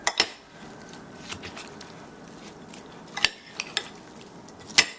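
Vegetable casserole ingredients with sauce and powdered garlic being mixed in a dish, a few sharp clinks and scrapes of a utensil against the container, sparse and close over quiet background.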